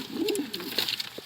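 A homing pigeon found on a rooftop coos softly in a low, rolling murmur, with a few brief fluttering sounds, close by and fairly quiet, with no talking.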